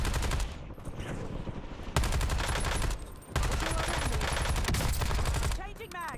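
Sustained rapid gunfire in Warzone: loud, dense automatic bursts with brief gaps, layered with distant shots and impacts throughout.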